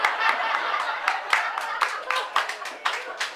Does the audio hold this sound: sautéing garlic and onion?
no